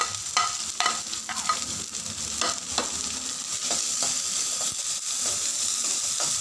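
Spring onion, peas, carrot and cabbage fry over a high flame for sweet corn soup, a bright continuous sizzle broken by repeated sharp scraping clicks of a spoon stirring the pan, close and clear with no voices.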